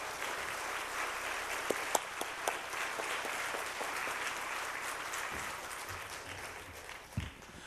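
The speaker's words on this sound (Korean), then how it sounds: "나오실 때 우리 뜨거운 박수로 맞이하겠습니다." A church congregation at a Wednesday worship service applauds warmly to welcome a guest pastor, a sustained patter of many hands with a few louder individual claps, easing off toward the end.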